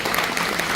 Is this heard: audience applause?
yes